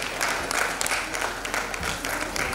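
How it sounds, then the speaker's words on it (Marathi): An audience at the Miss and Mrs Karad 2021 pageant claps in a dense, continuous burst of applause, moderately loud throughout. "सर्वांनी टाळ्या वाजवायच्या"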